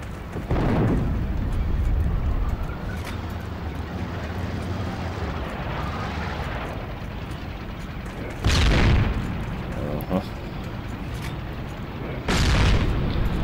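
Gunfire and explosions in the online shooter game Heroes and Generals: a continuous rumbling battle din with heavy booms hitting at intervals, loud and close.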